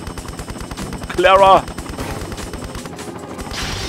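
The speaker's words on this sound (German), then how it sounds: "Helikopter! Schnell!" A rapid, chopping helicopter rotor drone from the video game Tomb Raider V, mixed with machine-gun fire, alongside a brief loud shout.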